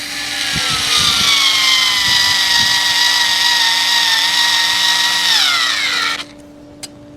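A DOVAMAN electric screwdriver drives a 1.5-inch screw into wood, its loud motor whine holding steady for about six seconds before dropping in pitch under load and cutting off, followed by a faint click.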